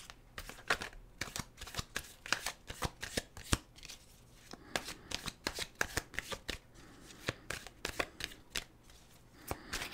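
A deck of tarot or oracle cards being shuffled, with repeated crisp riffling bursts in an uneven rhythm, close and fairly loud, with no talking.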